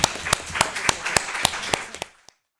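Audience applause for conference contributors after an academic session, with distinct, evenly spaced claps standing out over a softer wash of clapping that quickly tapers off to silence.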